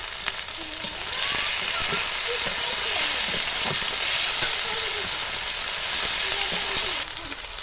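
Chilli chicken ingredients with green chillies, salt and turmeric sizzle and sputter in a hot pan, a constant loud frying hiss with scraping stir strokes and small pops throughout.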